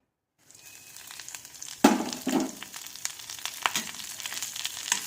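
Ghee sizzles and crackles in a hot pan for a Kannada-style drumstick-leaf tambuli, starting suddenly and holding a steady close frying hiss with a few sharper pops and stirring scrapes.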